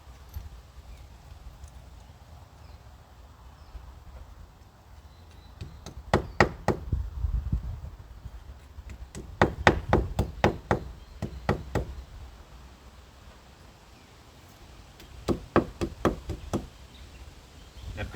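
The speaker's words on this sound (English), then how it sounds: "So now the easy part is just to hammer in the 4 plugs" Wall plugs being hammered into mortar joints of a brick wall while fitting a retractable hose reel: bursts of sharp, close knocks in quick series, separated by short pauses, with no talk.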